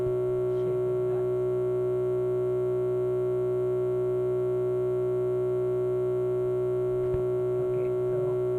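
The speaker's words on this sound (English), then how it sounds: "it's a little bit like a sine wave. This is a sine" A steady electronic sine tone hums continuously with faint harmonic overtones, a few soft clicks and rustles appearing briefly near the start and toward the end.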